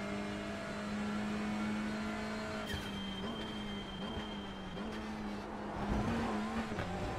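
A TCR race car in a sim racing game at Donington Park holds a steady engine drone, then shifts up with a sudden pitch change and revs again, alongside tire and road noise and no talking.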